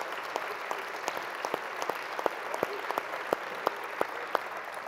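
An audience in a hall applauds Jean-Paul Delevoye with steady, dense clapping, sharp individual claps standing out at a regular rhythm, continuous from start to finish.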